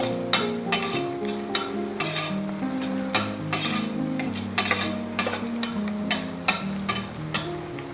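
Whole spices being stirred in a pressure cooker for chicken biryani, with a spoon scraping and clinking against the metal pot in a quick irregular rhythm over a faint sizzle and background music.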